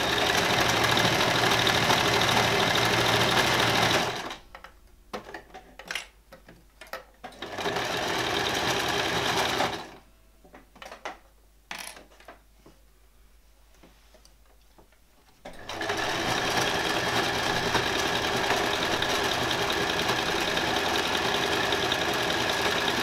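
A home sewing machine runs a stretch seam on a top, whirring loudly in long continuous bursts broken by short pauses with soft clicks and handling sounds.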